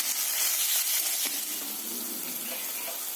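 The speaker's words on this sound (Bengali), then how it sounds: "একটু আদা বাটা দিয়ে মশলাটাকে কষতে থাকবো।" Spice paste of ground coriander, cumin and ginger frying in a pan, a steady wet sizzle with faint scraping under it, close and continuous.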